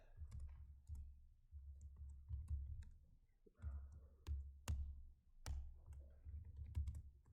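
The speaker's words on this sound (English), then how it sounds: "Now if I want to start typing things, I'll type in here." Typing on a computer keyboard during a programming lecture, a quiet run of irregular key clicks and sharper taps at close range, with low steady background hum and no talking.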